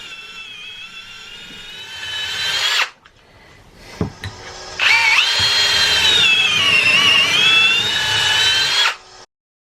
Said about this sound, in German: Zuerst bohre ich links und rechts vom Verbinder die Bohrung für die Holzdübel zur Stabilisierung.